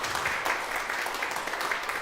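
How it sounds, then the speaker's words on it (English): An audience claps at an organ concert in the Friends of Music series, producing a dense, steady patter of many hands that holds at an even level throughout without pause. "So give him a nice round of applause."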